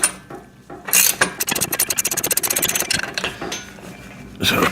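A nut being cranked down onto a washer and bushing on a home pec deck machine: a close, rapid run of ratcheting clicks in bursts, with scraping metal strokes between them and louder grinding at the start and end.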